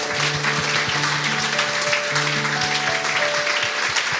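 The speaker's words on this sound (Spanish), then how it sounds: "Demos aplausos, hermano." A church congregation claps together in a steady, fairly loud wash of applause that carries through the whole stretch. Held musical tones sound underneath the clapping.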